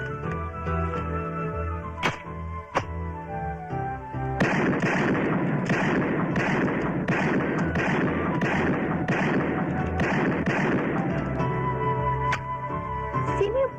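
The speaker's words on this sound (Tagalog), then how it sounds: "Sino yung pumuputok na yon?" Gunshots at a shooting range: loud, sharp reports, a few separate shots at first, then a rapid run of repeated firing with echoing tails, close and dominant with no talk.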